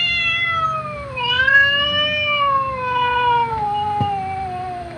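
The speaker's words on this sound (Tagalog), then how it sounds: "Ito yung pusa namin, oh." A pet cat meows loudly and close, one long drawn-out wavering call followed by a slow falling cry, alone without any talking.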